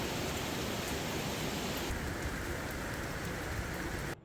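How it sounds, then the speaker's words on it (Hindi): Heavy rain pours down outside at night in a village, a dense, steady roar of rainfall that stays loud and unbroken before cutting off abruptly at the end. "बाहर बहुत ज़ोरदार बारिश लग रही है"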